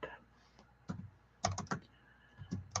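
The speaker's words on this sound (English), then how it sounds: "Fun watch me type." Quiet keystrokes on a computer keyboard come in short, irregular bursts with brief pauses between them.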